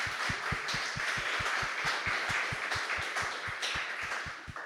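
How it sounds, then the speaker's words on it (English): An audience at a Cloud Native Rejekts tech conference claps for the winners, steady rhythmic applause with clear individual claps, moderately distant. "a round of applause to our winners now"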